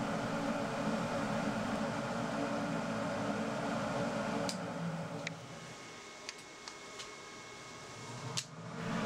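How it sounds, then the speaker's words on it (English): A CNC construction set plasma downdraft table fan runs as a steady broadband whoosh and hum, loud for the first half and then quieter, with a few faint clicks and ticks on top. "I will be using my CNC construction set plasma downdraft table"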